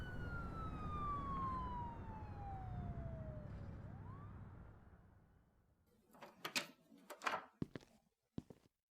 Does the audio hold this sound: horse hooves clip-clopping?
no